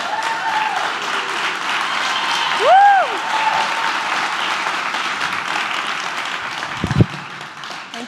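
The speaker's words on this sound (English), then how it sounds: "I'd actually like to ask them to stand up so we can give them a quick round of applause." A conference audience at Bubblecon gives a steady round of applause, dense clapping filling the room for several seconds, with a single whoop cheering out partway through and a brief thump near the end.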